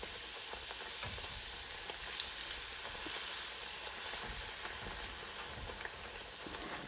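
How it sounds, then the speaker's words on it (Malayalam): Masala poori deep-frying in hot oil, a steady dense sizzle and bubbling that runs evenly throughout with faint clicks and stirring, close and unbroken, no talk. "അപ്പം നമ്മൾ പൂരി പെട്ടെന്ന് പെട്ടെന്ന് ഫ്രൈ ചെയ്യാം മീൻസ് എണ്ണ എണ്ണ ഒന്ന് ചൂടായി സ്റ്റഡി ആയി കഴിഞ്ഞാൽ പിന്നെ പെട്ടെന്ന് പെട്ടെന്ന് കുക്ക് ചെയ്യാൻ പറ്റും"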